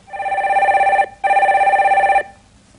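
A telephone rings for a caller on a live call-in phone line, two long electronic rings with a short gap between them, loud and close, with no talk over it.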